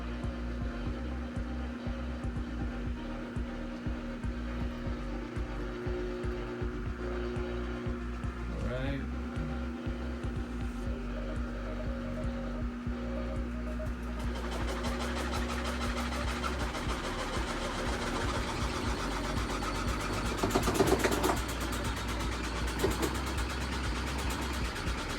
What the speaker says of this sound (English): There it is, it's spinning.